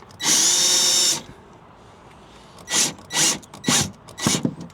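A power drill pre-drills holes in wood inside a camper van, with one long steady whine for about a second, then a series of four shorter bursts as the bit bites in and stops.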